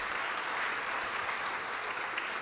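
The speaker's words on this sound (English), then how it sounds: "Let's give Ann and Todd a round of applause" Audience applause at an outdoor political campaign stop in Palmer, a steady, dense clapping from a crowd that holds for a couple of seconds.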